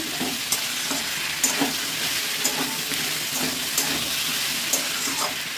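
Curry sautéing in a pan with a little sugar added, a steady sizzle and fry under repeated scraping stir strokes at a close, even level, with no talking.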